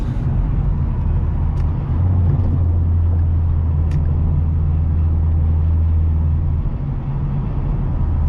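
A steady, deep engine rumble drones on at constant pitch from a 2014 Ford Mustang Premium with a Roush exhaust cruising, throaty, loud and close with no talking.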